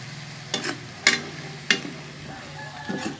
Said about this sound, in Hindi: बाकी अभी सोयाबीन भून रही है